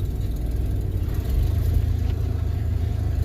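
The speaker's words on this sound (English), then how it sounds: "It cranks fast though because I tightened the crap out of the cables" A pickup truck engine with freshly tightened battery cables cranks over quickly to start, a close low rumble that swells and strengthens partway through as the motor spins up.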